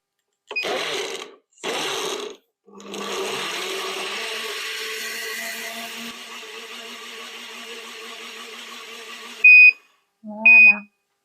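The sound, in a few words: Moulinex Perfectmix blender running smoothie function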